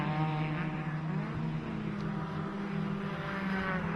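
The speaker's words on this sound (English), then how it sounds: "There's Mike Bushel's car, just flashes through shot" A Ford Fiesta race car in the 2011 Ford Fiesta Championship passes on a racing circuit, its engine a steady loud drone with a slight rise and fall as it flashes by, heard alone.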